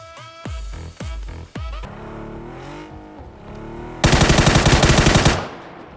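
Loud PUBG gunfire: a few single shots with ringing, falling tones, then a rapid burst of automatic fire, close and punchy.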